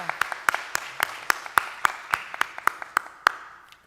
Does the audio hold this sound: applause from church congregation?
yes